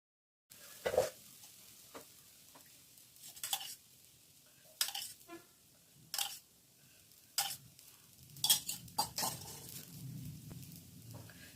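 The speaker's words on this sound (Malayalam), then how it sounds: "ഇപ്പൊ കല്ല് ചൂടായി ഇപ്പൊ ദോശ ഉണ്ടാക്കാം" Dosa batter hisses on a hot griddle while sharp metallic clinks and scrapes from a ladle or spatula cut in at intervals, close and fairly loud.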